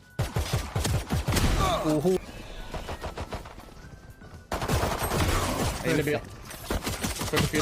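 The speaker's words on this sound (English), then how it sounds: "its Ultimate Fire is actually technically considered a shotgun" Ultimate weapon fire in the shooter game Valorant, a shotgun-like weapon, heard as repeated loud, close blasts in rapid bursts alongside other game sounds.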